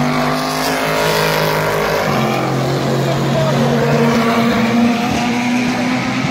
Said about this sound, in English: The Corvette and the Porsche.